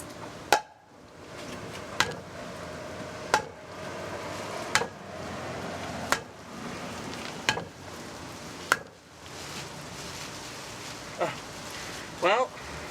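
A steel frying pan strikes a zombie head again and again: about nine sharp, heavy thuds land at a steady pace of roughly one every second and a half, over a busy background with faint voices.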